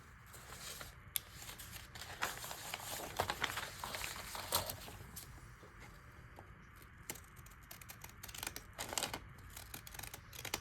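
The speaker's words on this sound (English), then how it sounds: "and follow it with the scissors." Scissors cut along a faint pencil line through a paper bag page for a handmade Irish paper bag journal, giving quiet, irregular snips with crinkly paper rustle and no talking.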